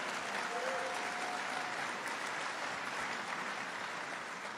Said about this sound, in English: Give him another round of applause, folks.